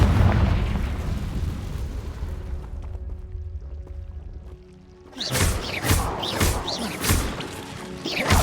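A Confringo blasting spell explodes in Hogwarts Legacy, a loud burst with crackling debris up front, then a quieter lull before sharp cracks and pops return near the end.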